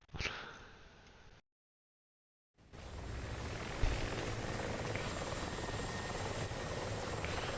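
Video game helicopters, a CH-47 and Mi-24s, produce a steady rotor and engine drone that cuts out completely for about a second, then returns loud and continuous with a thump.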